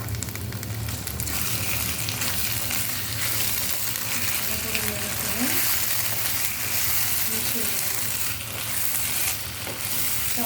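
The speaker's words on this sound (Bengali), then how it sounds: "চালটা ভালো করে ভাজা হয়ে গিয়েছে" Rice frying in ghee for chicken biryani, with a dense, close, steady sizzle and occasional stirring scrapes that hold throughout.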